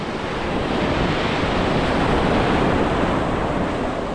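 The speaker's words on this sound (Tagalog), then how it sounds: "Nakatakot yung mga alon." Heavy surf churning and crashing close by, a constant loud roar with wind noise mixed in and no talking.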